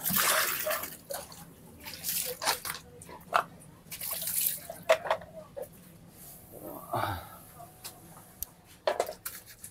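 A dog's feeding bowl is rinsed with water in a garage, with irregular splashes and spattering bursts coming and going over about ten seconds.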